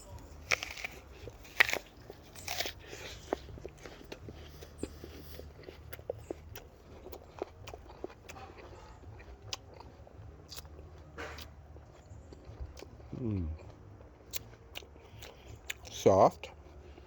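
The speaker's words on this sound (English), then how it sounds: "I'm going to bite this one." A person bites into and chews a Belmont apple from a super dwarf rootstock tree outdoors in November, faint crunchy chewing through most of the clip with a couple of sharper bites and some background noise.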